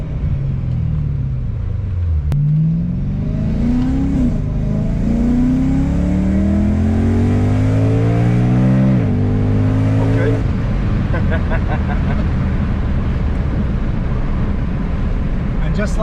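A supercharged BMW E90 M3 accelerates hard from inside the cabin, its engine note climbing through gears with loud rising pitch, then settling into a steady road rumble.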